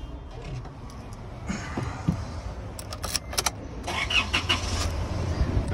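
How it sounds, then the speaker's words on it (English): 2017 Isuzu D-MAX 3.0L turbo diesel with 145,827 km on it starting up: keys and clicks come first, then the engine cranks and catches into a steady, loud idle. "I'm just gonna start up the car for you."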